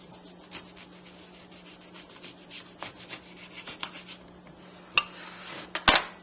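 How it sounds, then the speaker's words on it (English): A half lemon being juiced on a lemon reamer, giving quiet rubbing and squelching scrapes that repeat unevenly, followed near the end by a few sharper clinks and knocks, close up with a steady low hum underneath. "I'm going to juice half a lemon"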